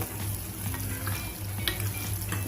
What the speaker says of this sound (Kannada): ಎಣ್ಣೆ ಕಾದ್ಮೇಲೆ ಈ ಕಟ್ ಮಾಡಿ ಇಟ್ಕೊಂಡಿದ್ವಲ್ಲ ಬದನೆಕಾಯಲ್ಲಿ ನೀರೆಲ್ಲನೂ ಚೆನ್ನಾಗಿ ಸೋಸ್ಬಿಟ್ಟು ಇದರಲ್ಲಿ ಹಾಕಿ ಈ ಥರ ಫ್ರೈ ಮಾಡ್ಕೋಬೇಕು